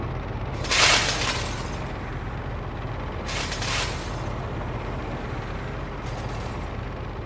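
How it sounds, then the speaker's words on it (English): Glass shattering effect shaped with Reformer Pro transient controls, softened smashes with a full decay: three bright crashing bursts, the first loudest, over a steady low rumble. "it gives just a little bit more of the glass sound to make it work with the visuals"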